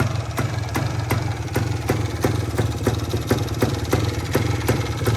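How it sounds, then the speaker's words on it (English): An old, crusty Yamaha DT250 two-stroke motorcycle engine idles steadily nearby, a low rumble with regular ticking clatter pulsing through it, no one talking. "Engine's pretty quiet though."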